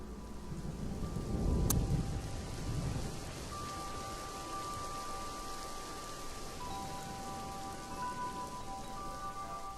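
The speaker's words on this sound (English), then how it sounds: "Fletch came awake to crashing thunder and the jubilant pounding of rain" Heavy rain pounding steadily with a crash of thunder early on that rolls away, the downpour continuing loud and even throughout with no voices.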